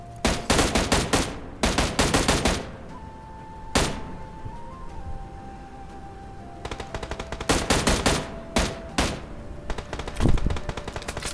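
An M16 fires in a solo-ranked battle royale game in quick, loud automatic bursts of sharp cracks, with a short pause before a long spell of further rapid bursts at close range.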